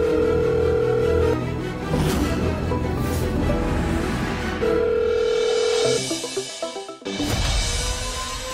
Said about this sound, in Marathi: त्या म्हाताऱ्याचा फोन. उचल तो फोन